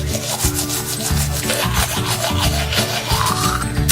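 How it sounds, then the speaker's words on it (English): Teeth brushed briskly with a toothbrush, just after using whitening strips, making a steady close-up wet scrubbing and rubbing with quick back-and-forth strokes throughout, no talking. "right now I'm just gonna brush my teeth regularly"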